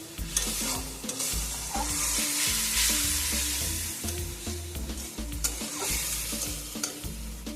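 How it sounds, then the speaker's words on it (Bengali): Spiced masala for govindobhog rice khichuri sizzles in a pan while being stirred, a close continuous hiss with rhythmic scraping and clanks of a spatula against metal, no voices. "এটি ভালো করে কষিয়ে নিচ্ছি তারপর আমি খিচুড়ির উপর মশলা কষানোটা দিয়ে দেবো"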